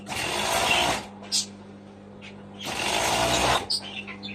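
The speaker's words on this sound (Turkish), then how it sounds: "Şimdi hemen ben bunun yanını dikiyorum." A sewing machine stitches the side seam of a sleeve in two loud, close bursts of rapid mechanical whirring, with a short pause between them.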